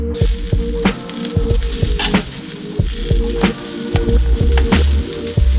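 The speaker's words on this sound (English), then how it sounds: "I'm breaking up the clumps and stirring so every grain gets coated in the flavor from the pan." Rice sizzles loudly in a hot pan while being stirred and broken up for Indonesian nasi goreng, steady frying hiss punctuated by repeated scraping and clinking strokes, close and alone.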